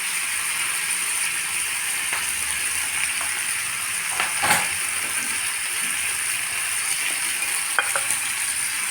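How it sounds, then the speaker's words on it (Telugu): Tomatoes fry in a pan for tomato chutney, a steady bright sizzle and hiss held at an even level, broken by a few faint clicks and scrapes and one brief louder clatter midway. "ఇప్పుడు టమాటాలు వేస్తున్నాం"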